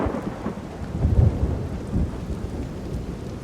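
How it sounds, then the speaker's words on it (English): Rain and thunder from the video game Everybody's Gone to the Rapture: a steady hiss of rainfall with a low thunder rumble peaking around the middle, fairly soft and without voices. "Rain."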